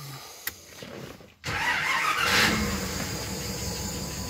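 A 1961 Bentley engine cranks briefly, then catches and starts, settling into a steady, loud idle close by with a rising whine as it runs.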